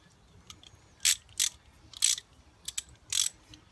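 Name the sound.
ratchet loosening 13mm brake caliper bolts on motorcycle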